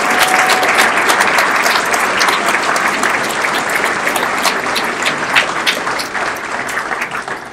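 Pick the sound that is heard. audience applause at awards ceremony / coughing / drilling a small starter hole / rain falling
audience applause at awards ceremony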